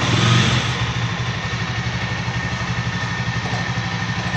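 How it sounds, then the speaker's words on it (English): A Jawa Classic motorcycle engine idles steadily up close, with a smooth, even rhythmic thrum and a slight rise in revs at the very start. "Now that shows how smooth the Java engine is."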